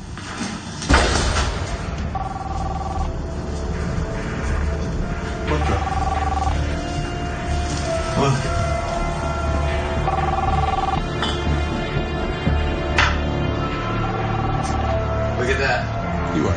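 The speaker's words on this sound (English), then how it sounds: "looks like you have a phone call" A phone rings in repeated short bursts during an iPhone magic trick, the tones sitting under steady background noise and crowd murmur.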